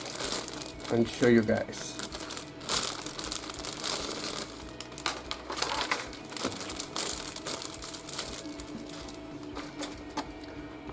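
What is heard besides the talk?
opening plastic bag of model kit screws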